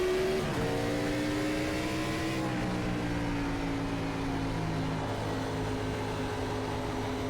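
A NASCAR Gen 4 race car in the iRacing simulator pulls away from a second-gear start at Phoenix. A loud, steady engine drone climbs and shifts pitch through the gears and fills the whole stretch without any talk.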